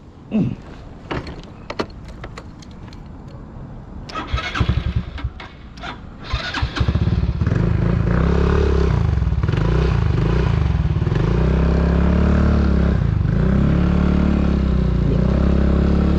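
Scattered clicks and clatter near Mayon volcano at night, then a motorcycle engine starts around seven seconds and runs steadily and loudly to the end with a low, rumbling drone.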